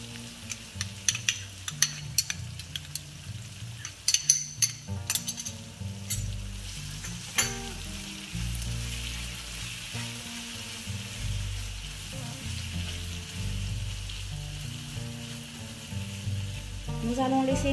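Onions frying in a pan with a marinade of garlic, bell pepper, chili, pepper and salt, a loud steady close sizzle with stirring scrapes and clinks early on, no voices.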